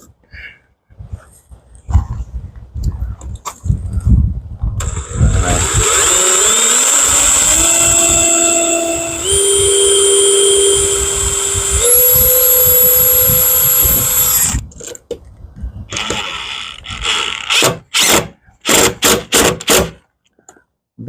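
A power drill drives screws into a solar screen frame mounted directly on a window frame: loud, close whirring bursts with the motor pitch climbing in steps, then a run of short trigger pulls and clicks.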